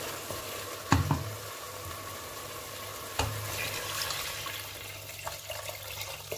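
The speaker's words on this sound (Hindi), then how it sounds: "इस तरीके से आप पानी डाल दें" Water being poured into a pot of orzo vegetable soup: a steady rushing splash with a couple of sharp knocks against the pot, close by and continuous.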